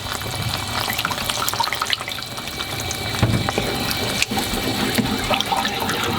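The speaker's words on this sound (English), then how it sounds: "Then add in the orange juice." Orange juice poured into a sauce pan while making orange chicken sauce, a steady liquid pouring and splashing wash with faint sizzling underneath, continuous for several seconds with no talking.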